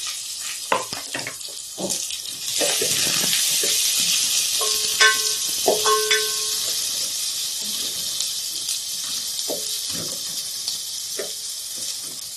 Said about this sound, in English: Our oil is hot, so next we'll add the onions.